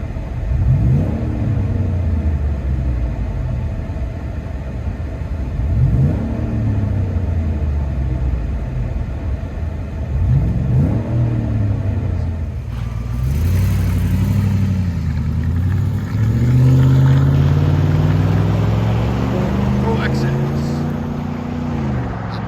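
A lifted 2012 Ford F-150 SVT Raptor with a 6.2-liter V8 and aftermarket exhaust, heard from inside the cab: a deep, droning exhaust rumble with repeated rev swells, steady and fairly loud, and someone talking over it.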